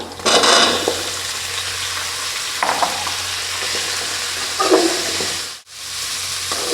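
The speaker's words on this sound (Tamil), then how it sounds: "அடுத்து தட்டி எடுத்து வச்சுருக்க சின்ன வெங்காயம் சேர்த்துக்கலாம்." Crushed shallots fry in hot oil for an onion kara kulambu, a loud continuous sizzle and hiss with a few stirring scrapes partway through, close to the pan, and a brief drop in the sizzle near the end.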